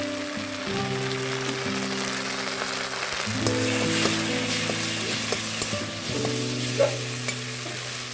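Maggi masala stirred and sizzling in a pan, a steady frying hiss with scraping spoon movements and faint clinks, close and continuous with no talking.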